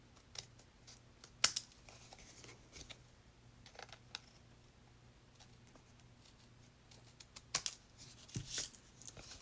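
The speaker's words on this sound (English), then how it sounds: "Cut off the piece you don't need." Scissors cutting scrap paper in a craft project, with a few sharp, brief snips and light rustling. Faint and close in a quiet room, with long gaps between the cuts.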